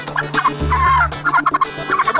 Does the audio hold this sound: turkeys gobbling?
yes